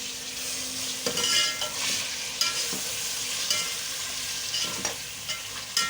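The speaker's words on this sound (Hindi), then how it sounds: "अब इसमें जाएंगे 2 टमाटर हमने कट कर लिए हैं, बड़े साइज़ के 2 टमाटर थे। अभी ये जाएंगे इसमें।" Two large chopped tomatoes go into a hot pan for chicken tikka biryani, giving a steady close sizzle with occasional stirring scrapes and light clinks.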